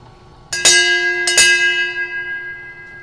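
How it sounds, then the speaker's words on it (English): A carousel signal bell rings twice in quick succession, each clear metallic strike leaving a long shimmering ring that slowly fades. "2 bells."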